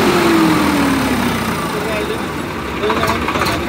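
A Swaraj tractor diesel engine, 855 FE or 744 XT, runs steadily nearby with a constant rumbling drone, and a voice speaks over it toward the end.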